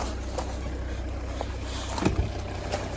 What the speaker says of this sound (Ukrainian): Заводиться гарненько. Двигун муркоче.